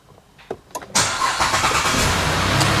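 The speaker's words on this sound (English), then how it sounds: "I'm gonna go ahead and start my engine up here" A car engine cranks briefly and catches at close range, then settles into a steady, even idle that fills the rest of the clip.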